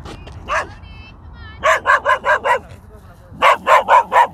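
A small dog barks close by in quick bursts, a single yip, then two runs of four or five sharp barks.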